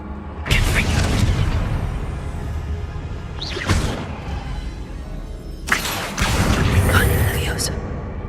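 Confringo, the explosive spell in Hogwarts Legacy, goes off in three loud blasts, each a whooshing, booming burst that rings out before fading, spaced a few seconds apart.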